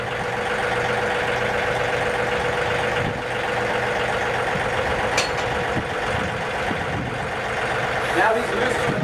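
John Deere utility tractor engine idling steadily nearby while backing away from its freshly lowered mower deck, a continuous mid-range rumble that holds a constant level throughout.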